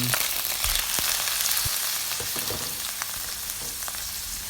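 Shrimp fry in butter in a pan, a loud, continuous crackling sizzle with scattered pops, close and steady throughout with no voices.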